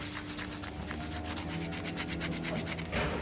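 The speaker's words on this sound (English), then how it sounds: "get a screwdriver or a knife and just give 5 minutes cleaning" A screwdriver scrapes dried old paint off a paint roller in quick, rhythmic strokes, close and steady with no talking.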